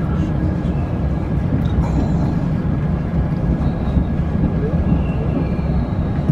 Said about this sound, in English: Can you see that diesel shunter, Barry?